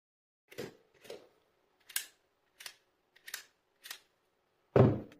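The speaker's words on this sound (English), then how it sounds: "How exactly do these adjustable twist-up eye cups actually work?" Twist-up eye cups on Shuntu 8x32 Pi-Series ED binoculars being adjusted give six sharp, close plastic clicks spaced about half a second apart, then one louder, fuller click at the end, with silence between.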